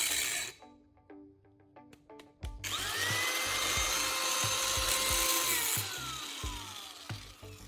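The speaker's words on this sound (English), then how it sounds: "I'm starting with a quick test of this angle grinder on a metal bar." An angle grinder cuts into a metal bar, opening with a few sharp taps and clicks, then a loud, continuous high whine and grinding scrape that holds for several seconds before tapering off.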